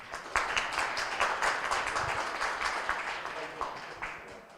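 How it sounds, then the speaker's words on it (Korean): An audience at an academic conference award ceremony applauds an entrepreneurship award winner, a dense, moderately loud wash of clapping that fades gradually, with a voice speaking over it. "큰 박수 부탁드립니다."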